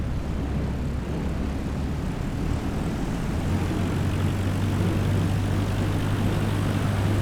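Aircraft taking off in a flight simulator from runway 34: a loud, steady engine and propeller roar that builds, with a low drone rising partway through, continuous and with no talk.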